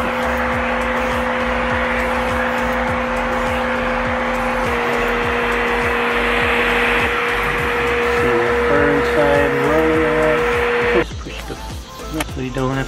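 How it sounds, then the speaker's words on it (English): An AsyPets pet grooming vacuum brushes and sucks loose fur off a dog, giving a steady close motor drone with a fixed whine that shifts abruptly in pitch and texture near the end. "we can just brush off and vacuum the extra loose fur that Max may have"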